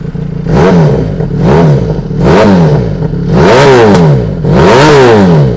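A 2018 Isuzu TRK502 pickup truck engine revving hard in four strong, rising and falling bursts, loud and close, with no talk over it.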